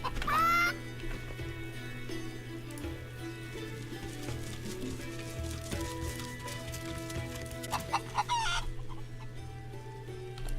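A chicken clucks in the fantasy role-playing game Divinity: Original Sin 2, brief faint calls over looping background music, with a louder burst near the end.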